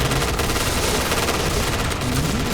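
Dense, rapid automatic gunfire from a first-person shooter game, with loud continuous bursts filling the whole moment without pause.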